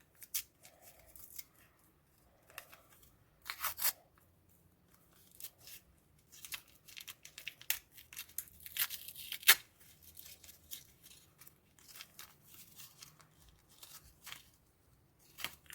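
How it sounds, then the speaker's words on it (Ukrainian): Sheets of paper crinkle, rustle and rip in a quiet room, with short scattered tearing and handling noises spread across the clip, close and fairly faint. "Я трішки порвала запитання."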